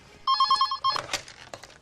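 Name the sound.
telephone bell ringing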